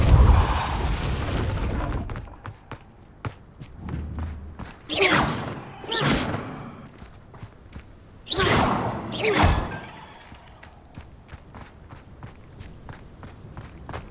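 A Depulso spell cast in the Hogwarts Legacy video game: two pairs of loud, surging magical whooshes over the character's steady, thudding footsteps.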